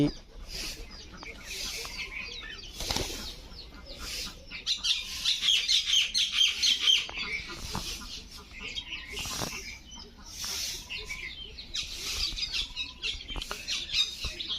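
Domestic pigeons in a village setting make bursts of calls and squawks at varying loudness against a quiet background, with faint voices at times.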